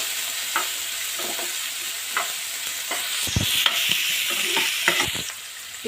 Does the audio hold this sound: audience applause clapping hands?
no